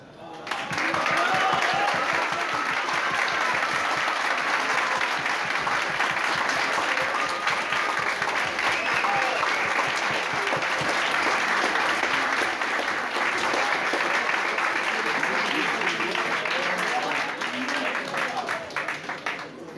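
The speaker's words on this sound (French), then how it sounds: "Eh ben applaudissez-le." Sustained crowd applause at an adult costume contest, a dense, steady wash of many hands clapping for nearly twenty seconds, with scattered voices and cheers mixed in.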